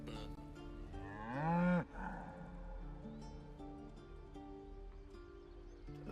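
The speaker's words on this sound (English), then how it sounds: "Hello, cow." A cow gives one long, loud, deep moo that rises and then cuts off, heard close over a low steady background of ambient music or hum, with no talking.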